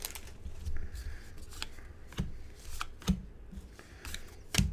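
Crinkly foil wrapper of a Magic: The Gathering Modern Horizons booster pack being torn and worked at, a series of sharp rustles and snaps in irregular bursts, fairly close.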